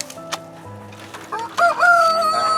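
A farm rooster crows loudly and close, its drawn-out call rising and falling over the last second, with softer clucks and rustling from chickens and turkeys before it.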